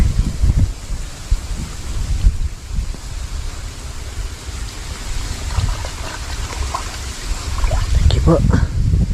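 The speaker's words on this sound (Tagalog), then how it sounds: "Kahit na mahangin. No choice po tayo. Napakahangin, no?" Steady gusty wind roaring and buffeting the microphone throughout, with faint voices underneath.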